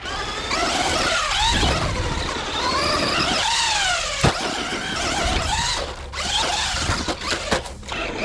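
A Traxxas Stampede 4x4 RC truck driving on dirt: a whining electric motor rises and falls in pitch with throttle bursts, with squeals and gritty scraping and a sharp knock near the middle, close and loud.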